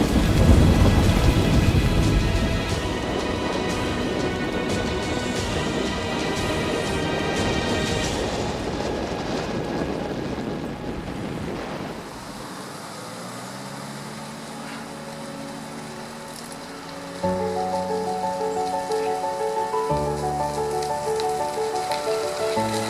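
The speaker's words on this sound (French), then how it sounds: "une petite pluie qui mouille est présente pour nous accompagner sur les premiers kilomètres" Light rain falls steadily on a grey day at the start of a recumbent bicycle ride from Pessac toward Redon, a loud broadband wash for about twelve seconds before music-like tones take over.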